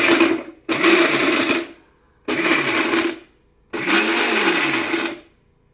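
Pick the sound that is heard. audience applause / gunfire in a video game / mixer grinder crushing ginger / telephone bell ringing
mixer grinder crushing ginger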